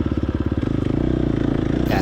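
Dirt bike engine during a hill race with the throttle held on, a loud close buzzing rasp with rapid pulsing that steadies into a rising drone, a faint hiss at the end.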